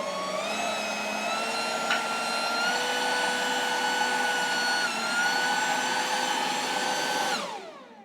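A Toro 60V cordless leaf blower runs at a steady high whine while blowing a 2x4 along a driveway, the tone shifting slightly before winding down at the end.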